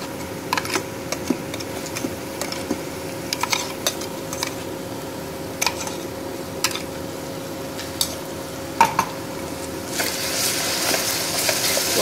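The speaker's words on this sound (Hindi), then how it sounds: "भूनेंगे ताकि मिर्ची की जो कच्ची खुशबू है वो चले जाए" Coarsely ground green chili and garlic paste frying with onions in a pan, a low steady sizzle with light, irregular spatula taps and scrapes throughout; no talking.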